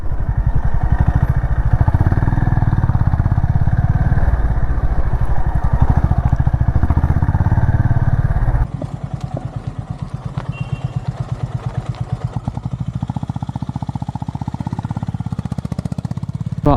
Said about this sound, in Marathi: आणि मग बाईक पार्क करूया सावलीमध्ये आणि मग स्टार्ट करूया.